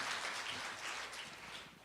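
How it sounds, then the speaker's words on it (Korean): Applause from a seated audience at a Buddhist book-launch ceremony, honoring novelist Jo Jung-rae after his lecture; steady, fairly quiet clapping spread evenly through the room, continuing without pause for about two seconds. "강연해 주신 조정래 작가님께 큰 박수 좀 쳐주십시오."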